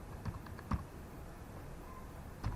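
A few quiet, scattered keystrokes on a computer keyboard tap out in short bursts, faint and close in an otherwise still room.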